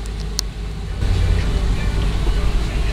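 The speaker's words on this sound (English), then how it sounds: "Vehicle moves in forward." A 2003 Ford Econoline E-250 cargo van with 22,288 miles pulling forward, engine rumble swelling after a brief click and holding steady close by.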